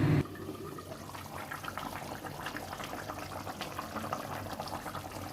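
A katla fish curry with potatoes bubbles at a steady boil, a continuous close burble of simmering liquid following a brief louder knock at the start.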